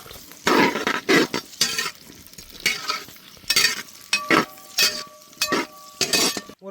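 Diced onions and broken green chillies fry in hot oil while a spoon stirs and scrapes the pan, loud rhythmic bursts of sizzling and clinking close by.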